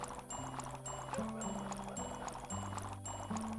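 Liquid-like pouring and filling effect from the Gaucho and the Grassland video game while clay tiles are made, a steady gurgling flow with layered game music tones and chimes throughout.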